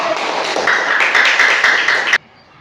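Schoolchildren clap together in a classroom, a loud, busy patter of many small hands that cuts off sharply near the end, leaving quiet room tone.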